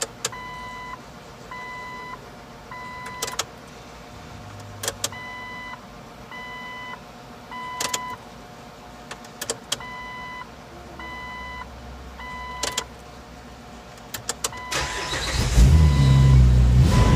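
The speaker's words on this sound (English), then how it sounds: "we're going to go ahead and turn this on to the on position 3 times because we need to prime that fuel pump" Ignition of a 1997-2006 Jeep Wrangler TJ cycled on to prime the fuel pump, bringing a series of short electronic chimes and beeps in repeating groups, then the engine cranks and catches with a loud rumble at the end.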